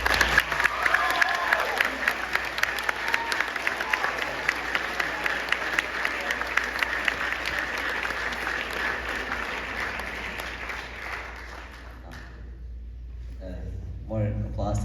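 A chapel audience at a Christian school's 11th grade missions service breaks into loud, sustained applause that fills the room for about twelve seconds before dying down, and a voice begins speaking near the end.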